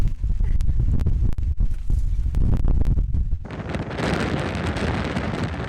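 Strong spring wind gusts buffet an open hillside on the Isle of Skye, roaring and thumping hard against a handheld phone microphone. The gusts come in heavy bursts, then settle into a steadier, hissing rush of moving air.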